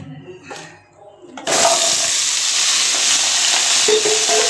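Shallots and tomatoes hit a hot pan for a village-style country chicken curry, and a loud sizzle bursts in after a quiet moment with a few handling knocks, then holds steady and close to the end.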